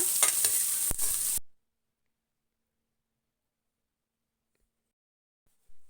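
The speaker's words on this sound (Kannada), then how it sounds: "ಇವಾಗ ಹೆಚ್ಚಿಟ್ಕೊಂಡಿರೋ ಈರುಳ್ಳಿ ಸೇರಿಸಿ ಒಂದು ಸ್ವಲ್ಪ ಫ್ರೈ ಮಾಡೋಣ." Chopped onions frying and stirred in a pan for a tondekayi (ivy gourd) stir-fry, a bright sizzle with a few stirring scrapes lasting just over a second before the sound cuts to silence.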